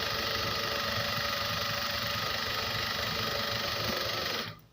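Overlock sewing machine stitching dress fabric, a steady close mechanical whir with rapid needle chatter running continuously before cutting off near the end.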